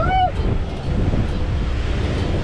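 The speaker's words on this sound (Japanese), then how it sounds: "そうそう、海着きます、江ノ島に。" Sea waves at Enoshima beach, a continuous rumbling surf heard near and loud amid strong wind buffeting the microphone.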